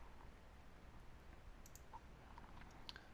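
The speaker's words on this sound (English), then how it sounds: "click on synchronize" Faint computer mouse clicks on a synchronize button in access-control software, a handful of small sharp ticks scattered over a few seconds, quiet against low background hum.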